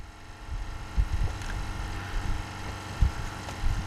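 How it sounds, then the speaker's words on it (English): Diesel engine and injection pump of a Ford F-350 with a 7.3 IDI, idling low with a rumbling, uneven rhythm and several heavy thumps as the pump lugs down, close and fairly quiet. "you hear the pump lug down when I do this?"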